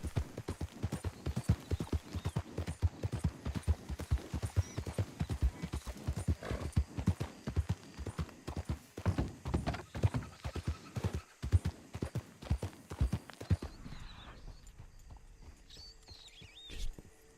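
Steady, dense hoof beats from a horse galloping in a video game pound on without pause for most of the stretch, then drop away near the end, leaving a quieter tail with a faint whinny-like cry.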